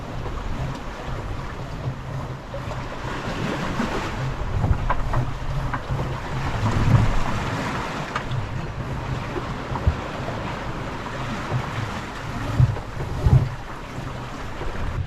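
A Beneteau 423 sailboat under way in wind and waves, with steady wind rushing over the microphone, water washing along the hull and occasional thumps from the boat moving through the sea.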